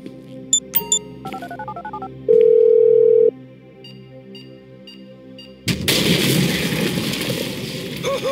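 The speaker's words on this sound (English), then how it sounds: "I'm making the call." Phone dialing in Grand Theft Auto V: a string of short dial beeps followed by a sustained tone, then quiet, before a loud burst of noisy gameplay action cuts in near the end.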